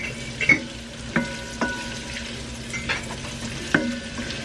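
Onions sautéing in a pan, with a soft steady sizzle and several distinct clicks and scrapes from stirring, heard close and without talk.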